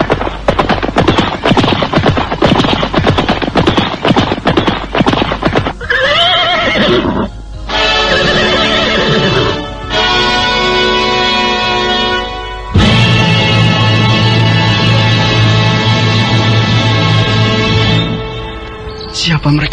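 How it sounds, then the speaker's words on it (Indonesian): Horse sound effects for a radio drama: a rapid run of hoofbeats followed by loud, close neighing and whinnying, repeated in long bursts with brief gaps between them. "terdengar derap kuda semakin lama semakin dekat"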